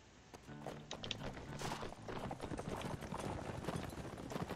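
Many horse hooves clip-clopping in the video game Mount and Blade 1866, a dense, continuous galloping clatter of a mounted group that swells and stays steady throughout.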